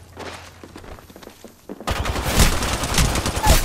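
Automatic weapon fire in the Apex Legends video game, at first light and scattered, then a loud, dense burst of rapid shots over the second half of the clip.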